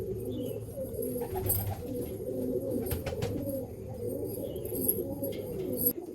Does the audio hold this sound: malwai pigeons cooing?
yes